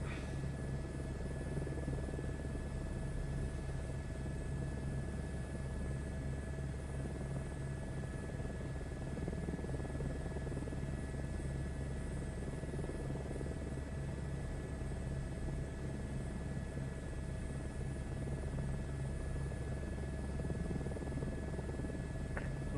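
An Airbus H125 helicopter flies steadily in Microsoft Flight Simulator over Norwegian scenery, making a constant low engine and rotor drone with a faint high whine throughout.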